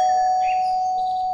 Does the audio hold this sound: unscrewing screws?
no